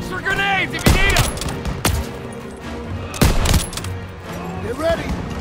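Battlefield gunfire in Call of Duty WWII, with heavy rifle and machine-gun shots cracking loudly and close among other scattered shots, set against a busy war scene with shouting voices.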